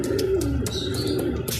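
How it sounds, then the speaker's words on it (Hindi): A female Indian chapri pigeon gives a low, throaty coo close by, a short rolling call with a few faint chirps around it. "ये इंडियन चपड़ी फ़ीमेल है जनाब।"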